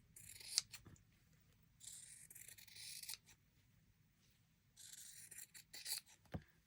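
Scissors snipping along a fold in junk journal paper for a Halloween project, a few quiet close crisp cutting passes with short pauses between them, no talking.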